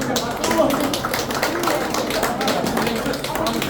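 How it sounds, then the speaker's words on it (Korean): An audience claps at a Korean endorsement rally for a presidential candidate, steady clapping mixed with loud talking from a speaker over a crowded, reverberant room. "다시 한번 박수 쳐주십시오."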